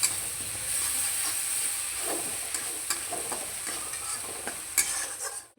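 A spice paste sizzles with bottle gourd in a pan while being stirred, giving a steady close hiss with scraping strokes of the spoon against the pan.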